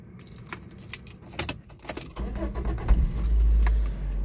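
A Daihatsu Copen L880 1.3 engine is started: key jangling and clicks come first, then a low engine rumble starts and settles into a steady idle, fairly close.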